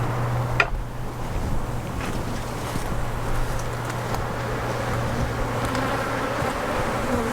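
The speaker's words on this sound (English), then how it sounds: "the bees were getting a little tiny upset and chasing around the camera" Honey bees buzz steadily at an opened first-year colony during a hive inspection, a dense agitated drone close by that runs unbroken throughout, with no talking.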